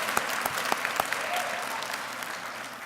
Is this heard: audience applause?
yes